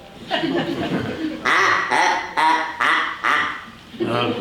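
A duck sound effect on a Burns & Allen radio comedy show: a loud, close run of nasal quacks in about six separate bursts, with laughter-like sounds mixed in.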